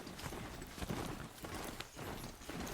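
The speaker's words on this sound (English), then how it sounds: "Let's grab my horse." Rapid horse hooves clip-clop in a steady rhythm in the video game Horizon Zero Dawn, close and fairly loud, over a dense background wash.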